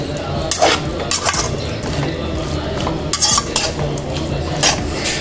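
Chicken uppukari with dried red chilies stirred in a pan, metal spoon scraping and clinking steadily against the cookware in repeated bursts over a low background sizzle, close and fairly loud with no talking.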